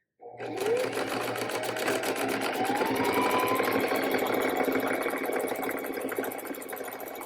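Sewing machine stitching a quarter-inch seam down the side of a fabric drawstring bag. A steady, fast mechanical whirr with dense needle clatter runs continuously at close range.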